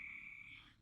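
A faint, steady trilling call of frogs drifts in from a distance, thin and high against a quiet nighttime background.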